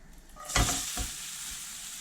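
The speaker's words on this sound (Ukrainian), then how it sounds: "Половину цибулі відправляю смажитися." Half a batch of chopped onion drops into a pan of hot lard and bursts into a loud sizzle, settling into a steady close frying hiss with a clatter of stirring.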